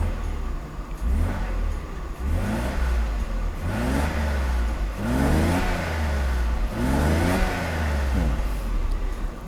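A Mercedes R129 300SL with a repaired fuel distributor and factory exhaust revs repeatedly from idle, several rising blips with a deep, low exhaust tone, close and loud, without talk.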